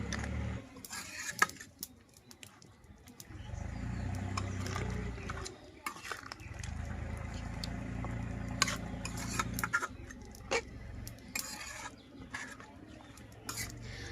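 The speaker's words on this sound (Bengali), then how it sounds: "এই পর্যায়ে হচ্ছে এখন নেড়ে চেড়ে রান্না করব।" Beef rezala being stirred in a pot, a spoon scraping and clinking against the metal in an irregular rhythm over a low steady simmer, close and moderately loud, with no talking.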